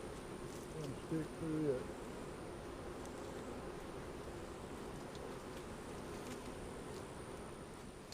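Honeybees fill the air around an opened hive being split, a steady close droning buzz that continues throughout while a person speaks briefly and faintly.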